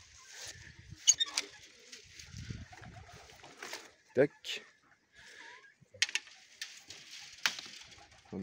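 Pigeons in an aviary coo softly in the background among rustling and clatter, with a person talking intermittently nearby.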